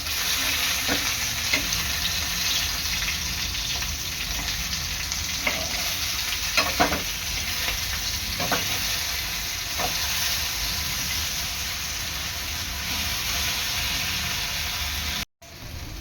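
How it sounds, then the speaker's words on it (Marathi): Crabs shallow-frying in a pan, a loud continuous close sizzle with occasional clinks and scrapes as pieces are turned over, alone without talking, ending in a brief cut. "2 ते 3 मिनिटानंतर चिंबोरी परतून घ्यायची आहे एका बाजूने"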